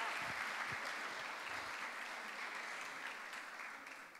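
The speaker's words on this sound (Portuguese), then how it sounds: "Gente, vamos aplaudir o Rodrigo." Congregation applauding a pastor at a church gathering, sustained dense clapping that tapers slightly toward the end, faint and heard alone.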